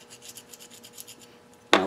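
A fine file rasps on a small steam engine connecting rod, deburring the metal in a string of light rhythmic strokes close by, ending in a sudden louder scrape.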